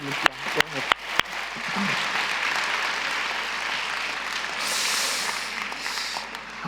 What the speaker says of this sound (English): Another big round of applause, please, for all of our panelists.